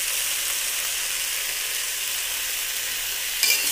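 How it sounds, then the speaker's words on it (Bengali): Turmeric and ginger paste sizzle steadily in a hot frying pan, a constant close hiss with a brief stir near the end. "হলুদটা দিয়ে একটু কষিয়ে নেব"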